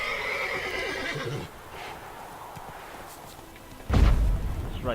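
A horse neighs in Witcher 3 with a loud, high whinny at the start, then a brief quiet before a heavy thud and more movement near the end.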